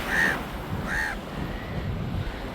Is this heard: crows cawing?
yes